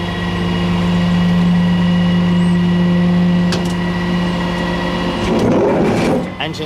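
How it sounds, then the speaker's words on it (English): Diesel engine of an old German car running steadily, a near, constant idle hum with strong low harmonics throughout, with some handling noise near the end. "Engine seems to run pretty good,"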